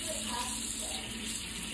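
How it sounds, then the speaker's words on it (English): Warm water runs steadily from a kitchen tap while measuring it for granary bread dough, a faint, even gushing hiss with no break. "I need 1 1/4 cups of warm water"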